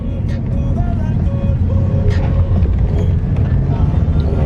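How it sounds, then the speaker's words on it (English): A car drives along steadily, its low engine and road rumble continuous and close throughout, with voices speaking over it. "I'm driving a little bit."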